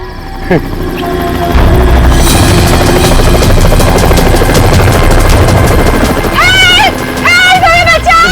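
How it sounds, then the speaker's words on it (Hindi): A rescue team's helicopter flies overhead with a steady, loud rotor drone that carries through the whole clip, while sharp dramatic crashes and hits sound over it. "सर लगता है ये रेस्क्यू टीम का चॉपर है जो हमें बचाने के लिए आया है"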